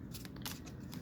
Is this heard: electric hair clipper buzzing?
no